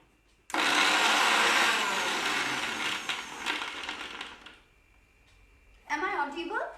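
Mixer grinder grinding paan leaves with a little milk, a loud close whirring roar that starts abruptly, runs several seconds and winds down, followed by someone speaking.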